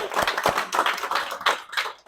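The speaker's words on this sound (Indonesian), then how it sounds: "Coba tepuk tangan dulu teman-temannya" A small group of classmates claps in a classroom during a lesson, a short uneven burst of hand claps, close and moderately loud, over about two seconds.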